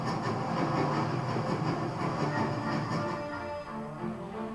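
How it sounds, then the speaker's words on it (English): A train racing at full speed in Master Thief rumbles with a dense, continuous roar and rhythmic rattling of wheels and carriages. It stays loud and close, easing slightly toward the end. "It will be suicidal to climb up there while the train is at full speed."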